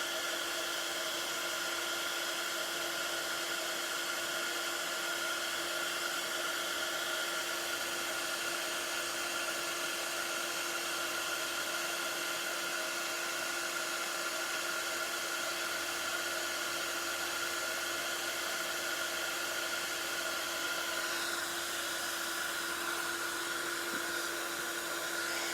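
A small electric heat tool blows hot air to melt embossing powder on a craft project, a steady loud whirring hum with a constant high tone that runs unbroken for the whole stretch.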